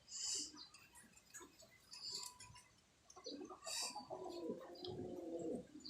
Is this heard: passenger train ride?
no